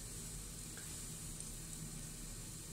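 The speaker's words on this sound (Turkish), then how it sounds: "Yağı güzelce soğanı kavuruyorum." Chopped onions sauté in oil for a Turkish spinach and rice dish, giving a faint, even, continuous sizzle close by with no voices.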